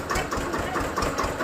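A tractor engine chugs at idle with a steady, quick rhythmic knock, close and moderately loud, with no voices over it.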